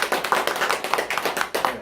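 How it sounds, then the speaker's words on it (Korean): Audience applause at a talk on cryptocurrency, a short burst of dense, steady hand clapping from a room full of listeners, close and fairly loud, with no talking over it. "지금 박수 한번 줘보세요."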